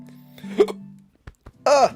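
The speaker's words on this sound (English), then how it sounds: "Hiccup." A single voiced hiccup sound effect from a friendship video game, bright and close, pops out near the end after faint sustained tones and a couple of soft ticks.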